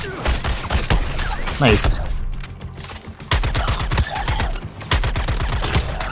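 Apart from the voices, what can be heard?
gunfire in video game Suicide Squad Kill the Justice League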